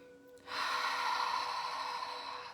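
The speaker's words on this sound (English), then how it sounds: "So breathing in and breathing out" A slow, steady breath during a guided meditation, heard close and alone as a soft, sustained airy exhale after a brief quiet start.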